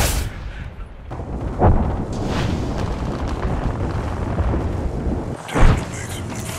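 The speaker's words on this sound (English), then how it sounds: "Incoming grenade." A grenade going off in Apex Legends, with deep booming blasts around two moments, the second sharp and loud, surrounded by rumbling gunfire and chaotic battle noise, with game voice lines in the mix.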